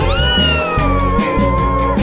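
A loud, drawn-out meow with a falling pitch over a steady musical backing, sounding like a sung or imitated cat cry rather than a real one.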